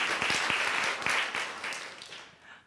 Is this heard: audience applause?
yes